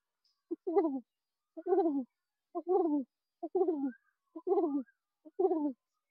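Six soft, throaty coos from a child imitating a pigeon, evenly spaced and quiet, each a short rolling burble.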